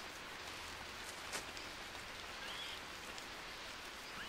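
Steady rain falls in the survival video game Green Hell, a constant even hiss of raindrops on surfaces with no breaks, moderately loud and heard alone.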